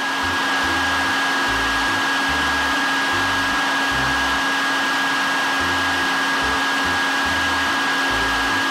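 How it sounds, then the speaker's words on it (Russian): A hair dryer blows loudly and steadily with a constant whine, running without pause throughout, alongside a faint low intermittent thumping. "фен нужен не для того, чтобы что-то греть, а для того, чтобы сушить волосы"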